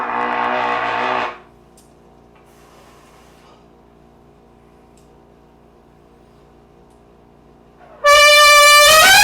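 A trumpet sounds two loud, sustained, bright blasts, one at the start and one at the end, separated by a long stretch of near silence. The second blast is in concert D.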